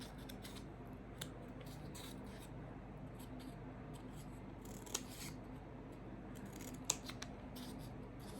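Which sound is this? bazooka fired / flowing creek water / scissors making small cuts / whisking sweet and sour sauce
scissors making small cuts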